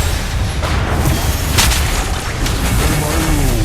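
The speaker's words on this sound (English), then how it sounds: "Your team destroyed a turret." A turret explosion in the Mobile Legends mobile game rings out as a loud booming blast layered over dense game effects and music, with a sharp burst of crackle midway through the short stretch.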